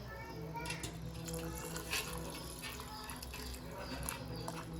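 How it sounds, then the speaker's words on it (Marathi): Hot water is poured into a pot of vegetable pulao in a home kitchen, giving a faint, steady splashing trickle that runs throughout with light patter. "आता याच्यात मी गरम पाणी टाकते"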